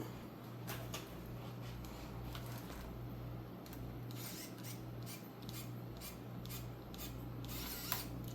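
A handheld manual screwdriver works on a Wltoys RC car, making faint, sparse clicks and scrapes over a steady low electrical hum, with no talking.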